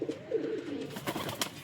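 Young breeder pigeons coo close by in a low, throaty rolling phrase that fades out partway, followed by scattered sharper flutters and knocks as the birds shift about.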